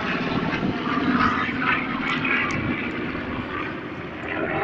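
A B-25 bomber's propeller engines drone at an airshow, a loud, continuous rumbling roar that holds steady throughout with no talk over it.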